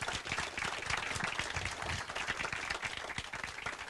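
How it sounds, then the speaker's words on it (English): A library groundbreaking crowd claps steadily in dense, continuous applause of even loudness, heard from close by with no voices on top. "Can we please give them all a round of applause?"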